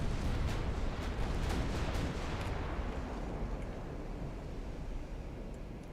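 Naval gunfire from warships in Ultimate Admiral Dreadnoughts, a dense rumble of heavy guns with several sharp reports early on, then a long rolling boom that slowly fades under steady sea noise.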